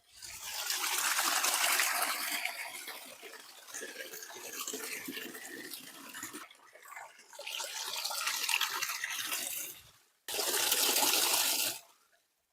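A small waterfall of cold water rushes loudly and steadily, with brief dips in the flow before it cuts off near the end.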